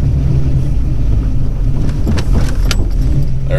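A Foxbody Mustang with a 5.0 small-block Ford V8 and Comp Cam XE266HR camshaft pulls away in first gear, a steady loud low engine rumble heard from inside the car with a slight lumpy idle character.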